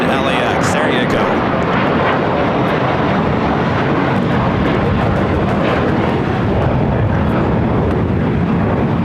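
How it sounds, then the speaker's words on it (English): An Air New Zealand Boeing 777-300ER jet roars loudly and steadily at LAX, a broad continuous engine rumble with wind buffeting, heard close and filling the whole stretch. "the All Blacks and the All White Air New Zealand 777-300s ER"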